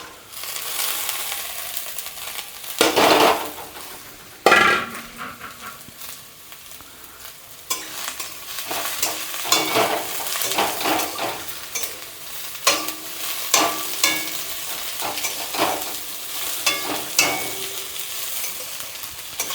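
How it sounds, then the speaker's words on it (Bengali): Vegetables for chow mein are stir-fried in a hot pan: continuous sizzling with repeated scraping and tossing strokes of a spatula, close and fairly loud, with a couple of sharper bursts early on. "সব কিছু দিয়ে একসাথে নাড়াচাড়া করে এগুলো ভাজা ভাজা হবে"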